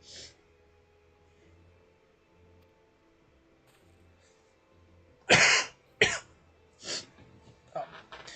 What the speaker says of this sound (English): I'm not in the best condition because I've been just coughing a lot